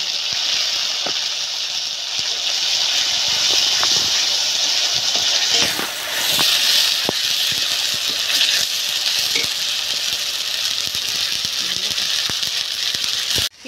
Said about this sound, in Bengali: এবারে আমি এই পেঁয়াজ বাটাটা এর মধ্যে দিয়ে দিলাম।